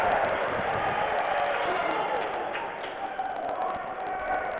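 A crowd at a women's college basketball game roars after a blocked shot, a sustained wash of cheering and shouting that eases slightly toward the end, with a few sharp squeaks and claps mixed in.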